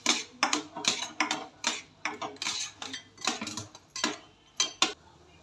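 Sweet potato puran filling stirred in a pan with a spoon, giving a run of quick scraping clinks and soft taps against the metal at an uneven rhythm, close and fairly quiet, with no voices.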